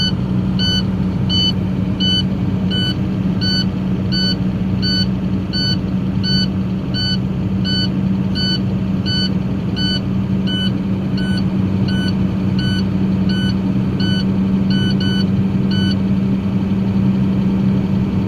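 A truck engine idles at a steady low rumble while air pressure builds for a CDL air brake test, a regular beeping pulsing above it throughout.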